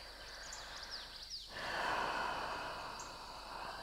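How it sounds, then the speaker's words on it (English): Deep breaths drawn in and pushed out through the mouth during a yoga leg workout, a soft airy rush that swells around the middle and carries on steadily, close and fairly quiet, with no talking. "Just breathe in and out through the mouth, keeping the breath nice and deep."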